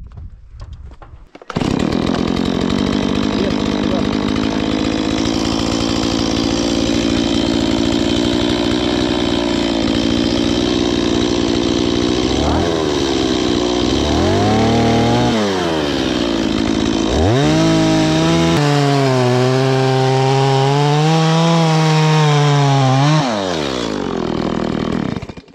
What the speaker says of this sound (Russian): Ну давай сейчас бензопилу принесу.